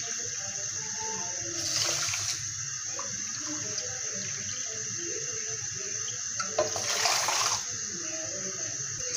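Two cups of water poured into a pan to make sugar syrup for gulab jamun, heard as two short splashing bursts a few seconds apart over a low background hum and faint insect chirping.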